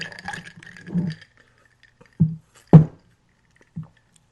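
Cranberry juice drink stirred with a rubber straw in a glass, giving a soft sloshing and rattling burst followed by three brief separate knocks or clinks, fairly close and with no voices.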